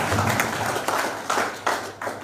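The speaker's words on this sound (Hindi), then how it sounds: "एक बार जोरदार तालियां बजाइए" Audience applause at a four-day leadership and business mastery workshop in Lonavala: a steady wash of hand claps from a crowded room, rising in a few louder surges, with no talk over it.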